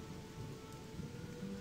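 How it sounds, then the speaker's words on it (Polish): Steady rain falls in Gothic II, a continuous even hiss with a low rumbling undertone and a faint tonal hum, unbroken across the short stretch with no voices. "czemu deszcz pada na pustyni?"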